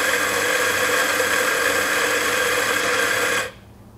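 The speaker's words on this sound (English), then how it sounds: "So I'm now going to dial in my grinder." An E65 or E80 grind-by-weight coffee grinder grinds espresso beans with a steady, loud motor whine that runs unbroken for about three and a half seconds, then cuts off abruptly into quiet.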